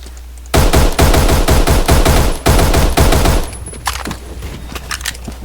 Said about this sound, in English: Because the Scar SSR just feels like it has the generic gun sound.